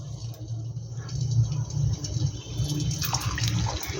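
Puris frying in hot oil, a continuous dense sizzle and bubbling hiss with a low rumble underneath, growing brighter near the end, and no talking.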